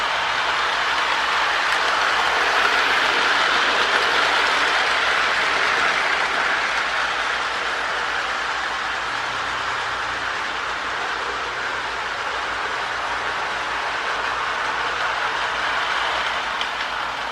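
A Marx Blue Bonnet E7 Texas Chief toy model train rolls steadily along its track with a continuous whirring hum and faint rhythmic clicking, no talking.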